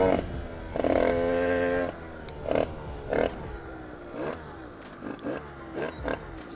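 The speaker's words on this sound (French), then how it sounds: "Et la moto elle commence à faire..." Motorcycle engine sputtering and misfiring on a ride at speed, with uneven bursts and stuttering revs cutting in and out over steady road and wind noise.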